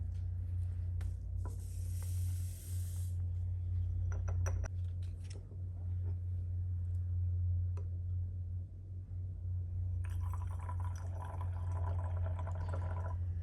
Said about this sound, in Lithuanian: Ir suberiame cukrų.